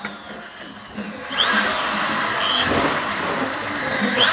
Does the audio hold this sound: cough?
no